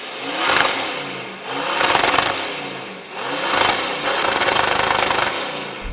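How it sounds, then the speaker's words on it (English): An off-road SUV's engine revs repeatedly for an exhaust sound check, with three loud rising-and-falling surges a few seconds apart and a steady throaty drone between them, close up and with no talking. "Let's do a sound check, because this sounds better than your car."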